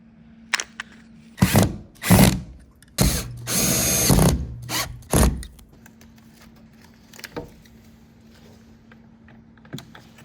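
A power drill whirs in several short bursts, with one longer sustained run, then clicks and a faint hum as it stops.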